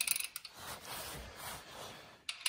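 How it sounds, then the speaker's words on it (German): A nut is tightened onto the gearbox of a BMW R45 motorcycle during a neutral switch replacement. Quick ratchet clicks come at the start and again at the end, with soft rubbing and handling noise between, all close by. "die Mutter drauf mit vorgeschriebenen Drehmoment anziehen"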